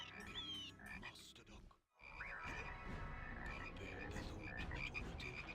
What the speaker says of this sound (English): all of those little green blobs are tiny little frogs which will jump towards the nearest unit, blob onto them, and then blow up